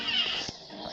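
A single cat meow, drawn out and fairly close, with faint background noise.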